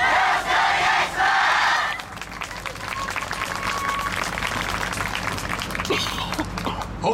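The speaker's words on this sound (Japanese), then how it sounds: "ご声援、お手拍子のほどよろしくお願いします。" Crowd at an outdoor YOSAKOI dance festival contest cheers loudly and claps in rhythm, a dense roar of voices and hand claps filling the space throughout, with shouting voices rising above it.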